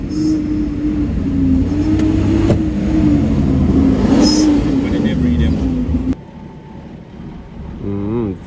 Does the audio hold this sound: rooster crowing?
no